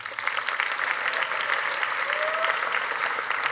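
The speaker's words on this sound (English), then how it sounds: "Please give the two a big round of applause." At a class night ceremony for the class of 2019, an audience of students and families claps steadily and loudly throughout, a dense, continuous applause with no one speaking over it.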